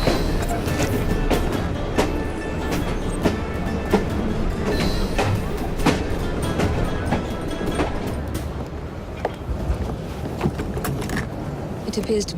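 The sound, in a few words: train running in Assassin's Creed Syndicate video game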